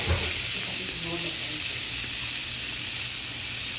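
Chili peppers fry in a hot pan with a steady, close sizzle that holds evenly throughout, while a person talks quietly underneath.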